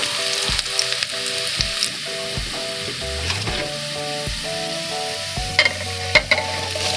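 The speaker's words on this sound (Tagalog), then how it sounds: "i-sauteed natin until golden brown para mas mabango guys" Garlic sautés in a hot pan with a loud, continuous sizzle and crackle, punctuated by occasional scrapes and taps of a spoon; background music plays underneath.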